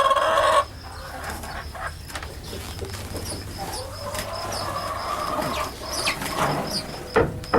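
Small white commercial laying hens cluck and call inside a deep-litter henhouse in a garden in June, a busy overlapping flock sound close by with occasional crow-like calls.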